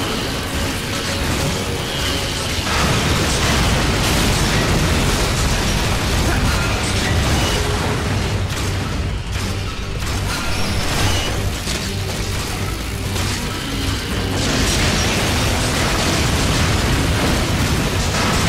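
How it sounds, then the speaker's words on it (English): Continuous chaotic battle noise from Metal Gear Solid 4, with loud booming explosions, bursts and mechanical clanking piling up densely for about eighteen seconds without a break. "Ah, so much explosions."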